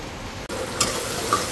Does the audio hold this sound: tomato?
yes